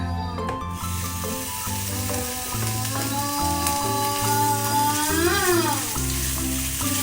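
Ingredients for Taiwanese braised pork rice fry in a hot pan, a steady hiss and crackle running under loud, melodic background music throughout.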